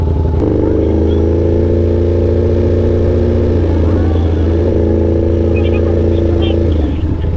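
A Ducati big bike motorcycle engine drones loudly and steadily while riding, a close, continuous mechanical roar with slight rises in pitch, and people talk over it.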